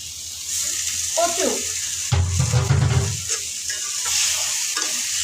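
Vegetables and taro tipped into a hot pan with fried fish, a loud burst of sizzling that settles into a steady frying hiss, with a voice speaking briefly nearby.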